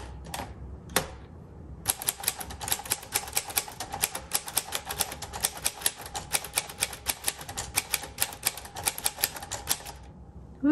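A couple of isolated knocks come first, then a typewriter is typed on in a brisk, continuous stream of crisp, close keystrokes, with no one speaking.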